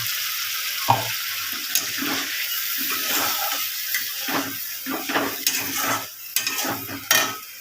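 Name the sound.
water being added to a cooking pan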